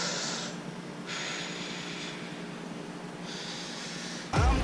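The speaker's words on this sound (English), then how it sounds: "nice, deep, slow breaths." Slow, deep breaths taken during a stretching exercise: three long, airy inhale-exhale rushes, close and fairly soft, separated by quieter pauses and ending with a sudden brief knock.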